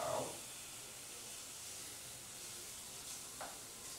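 Beef liver steak fries in a pan with a soft, steady sizzle, a faint continuous hiss throughout, and a brief louder spatter at the start.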